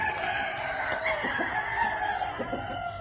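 A gamecock rooster crows loudly and nearly continuously at close range, in a long, ringing call that holds for about three seconds with no talking.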